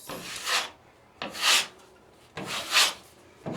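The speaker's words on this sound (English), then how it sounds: "Sounds like midnight drywallers" A drywall mud trowel is pulled over taped seams on a homestead build: three long scraping sweeps, each rising to a rasping peak and fading, separated by short pauses, close and clear with no talking.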